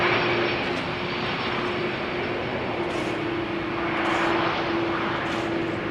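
A landing airliner at Amsterdam Schiphol, its inner right-hand thrust reverser not working, gives a loud, broad jet roar with a steady tonal whine throughout, in showery weather.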